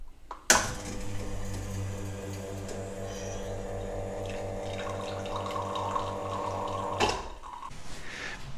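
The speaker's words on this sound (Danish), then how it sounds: "Kig på, hvordan kaffen løber og indstille kværnen derefter og kaffemaskinen." An espresso machine runs coffee, its pump humming steadily and close by for about six seconds before cutting off abruptly, with water flowing underneath.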